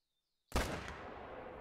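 A single sharp rifle shot from a hunting game, booming out of silence and trailing off into a long rumbling echo.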